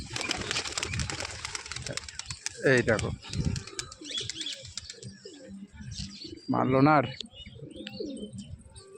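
Domestic pigeons with clipped wings on a house rooftop give two short bursts of cooing, close by, while someone talks over steady background noise.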